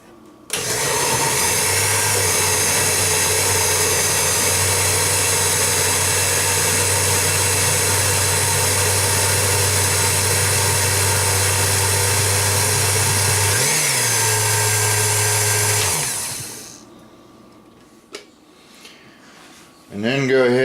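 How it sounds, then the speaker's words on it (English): A kitchen blender pureeing canned whole peeled tomatoes, a loud steady motor whir running for about sixteen seconds before cutting off, leaving near silence with a few small clicks and handling noises. "One can at a time in your blender."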